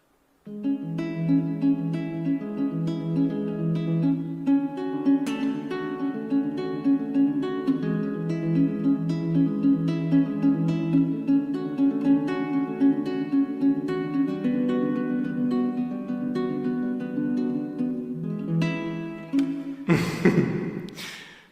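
Plucked strings play a steady, repeating picking pattern of low and mid notes, continuous and fairly loud, ending with a brief noisy scrape.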